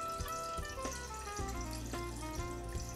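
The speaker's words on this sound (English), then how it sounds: "so you pour the wine in to the decanter and you use the candle light." Wine pours into a glass decanter by candlelight, a soft continuous liquid trickle with faint splashing, quiet and close, with no talking.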